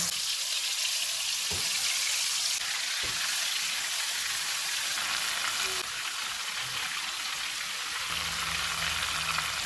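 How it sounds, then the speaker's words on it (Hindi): Chicken pieces fry in hot oil over a medium flame, producing a continuous dense sizzle and hiss with a few soft knocks and stirring touches, with no voices. "ऑयल गर्म हो गया, इसमें चिकन के पीसेस रखेंगे।"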